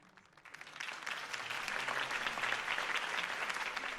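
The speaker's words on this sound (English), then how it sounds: "If only Mr. Wayne, my campaign's largest backer, could have heard that applause" A crowd in the video game Batman: The Telltale Series breaks into sustained applause, clapping rising quickly after a quiet start and holding steady and loud to the end.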